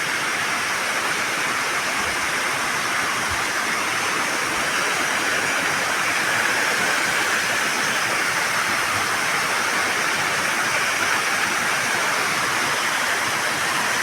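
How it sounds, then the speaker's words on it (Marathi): Fast-flowing river water rushes in a steady, loud broadband wash while villagers set fishing nets, the torrent continuous and close throughout. "पाणी बरंच वाहत आहे"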